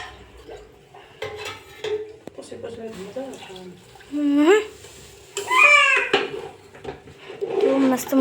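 A spoon scrapes and clinks as khichdi is stirred in a pressure cooker pot, with a few distinct bursts of stirring between stretches of conversation.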